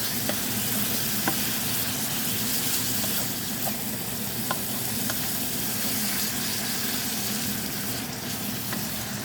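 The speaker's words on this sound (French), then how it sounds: "Là, les lardons cuisent tranquillement à 5." Bacon lardons for carbonara fry steadily in a pan, a dense continuous sizzle with faint crackles throughout and no talking.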